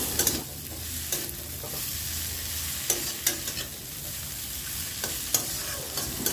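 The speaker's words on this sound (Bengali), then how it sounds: "আদা বাটাটা দিয়ে একটু আবার নেড়ে নেব" Ginger paste frying in oil in a pan while being stirred for an okra and mustard dish, giving a steady close sizzle broken by several sharp scraping strokes of the spoon.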